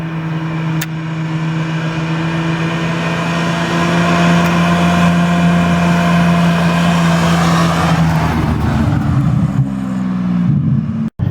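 A Ferrari 550 Maranello's V12 drones steadily at speed from inside the car, a deep constant hum that shifts pitch near the end as the revs change.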